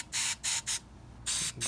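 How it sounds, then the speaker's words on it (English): REM oil sprayed from an aerosol can onto the check valve of an Annovi Reverberi AR-RMW22G24 vertical axial pressure washer pump: five short, loud hissing bursts close by, separated by brief pauses. "I'm going to spray a little REM oil in here."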